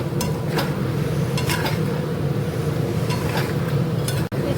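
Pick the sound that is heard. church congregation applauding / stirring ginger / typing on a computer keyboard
stirring ginger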